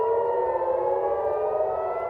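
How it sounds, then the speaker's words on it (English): Civil defense air raid sirens sound across Tel Aviv during an Iranian missile attack: a loud, steady, wailing tone that holds without a break, with no voices. "In Israel, meanwhile, sirens are being heard across Tel Aviv."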